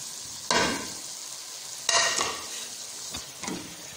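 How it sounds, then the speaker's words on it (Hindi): Spices fried and stirred in a pan for kachnar keema, a mince dish with bauhinia buds: three or four scraping stir strokes, each a short burst over a soft continuous sizzle. "अब हमने इसकी अच्छे से भुनाई करनी है, अच्छी तरह भून लेना है।"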